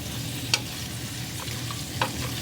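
Carrots sautéing in a home kitchen pan give a steady soft sizzle, with two short clicks of a utensil stirring against the pan, and nobody speaks.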